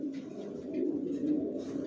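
Original Johnson Long-line racer pigeons coo softly in soft, continuous throaty rolls, close by, with no voices.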